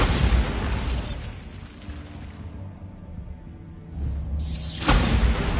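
A Bombarda spell blast in the video game Hogwarts Legacy: a loud, broad explosive burst that decays into a rumbling tail, followed by a second sharp impact near the end.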